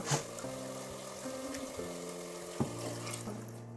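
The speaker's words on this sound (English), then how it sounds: "Add 1 cup of water." Water runs in a steady stream into a pot of mutton dalcha spiced with masala and salt, a continuous close trickle with a couple of soft knocks and no talk.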